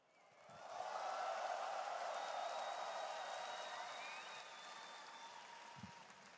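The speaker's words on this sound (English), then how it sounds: "I had to wait for the applause to stop there, Save." A crowd at a post-match stage interview breaks into sustained applause that swells quickly, holds strong, then slowly thins, with a faint high tone and an occasional voice beneath it.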